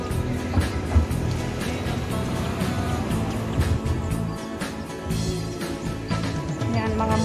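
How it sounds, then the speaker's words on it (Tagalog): Motorcycles passing in heavy rain on a stormy day, a continuous dense wash of engine drone and rain noise throughout. "Ang daming motor dyan, guys."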